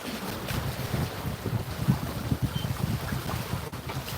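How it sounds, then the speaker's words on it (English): Steady wind roars across a sailboat at sea on the Indian Ocean, with a broad, constant rush and low buffeting rumble from gusts hitting the microphone, heard alone for a few seconds. "Feels a bit windier out here."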